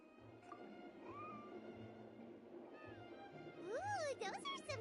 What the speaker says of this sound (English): Here, kitty, kitty. That's it, Snowball. Good kitty